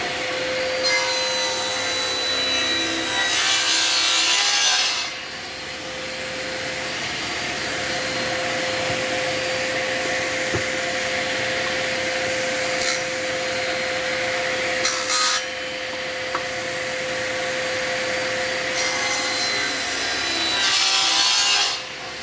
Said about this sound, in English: I'm just going to trim the ends on the saw here now.